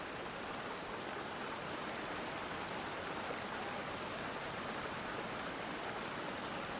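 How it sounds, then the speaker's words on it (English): Steady, even rain hissing in the open world of Genshin Impact, a constant broadband wash of drops with no breaks or voices, moderately quiet throughout. "It's raining again?"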